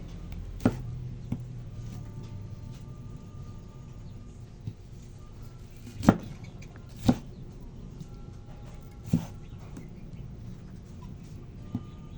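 A knife slices kamias fruit on a board, a few sharp, isolated chops spaced seconds apart over a quiet background with faint bird and chicken sounds outdoors.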